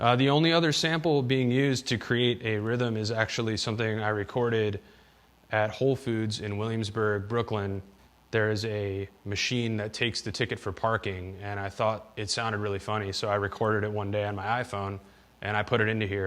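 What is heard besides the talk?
No distinct noise like a dog, phone or traffic.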